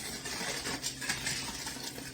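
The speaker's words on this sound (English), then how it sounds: "And you're going to stir it." A spoon stirring sugar into homemade punch, brief clinks and swishing against the container, close and fairly quiet, without talk.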